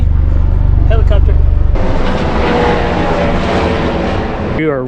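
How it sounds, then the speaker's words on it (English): A loud, droning engine roar from a helicopter passing close over a hillside backyard, steady and dense, with a voice speaking briefly at the start and end. "We are right in the helicopter path."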